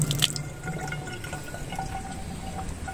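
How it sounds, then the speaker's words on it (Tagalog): Strong stream of water running from a sink tap at a campground, a steady close splashing flow with drips, heard alone without talk. "Malakas ang tubig dito."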